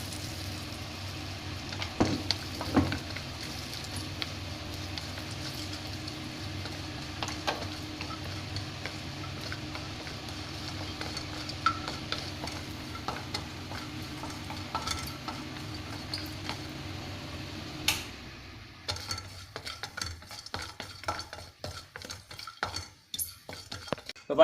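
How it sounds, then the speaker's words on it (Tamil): Crushed nutmeg roasting in ghee in a pan, a soft steady sizzle with scraping stirs and occasional utensil clinks, the stirring growing sharper and more clattery near the end. "ஸோ நெய் விட்டதுக்கப்புறமா நம்ம நச்சு வச்சுருக்க ஜாதிக்காயை இதில் போட்டுருவோம்"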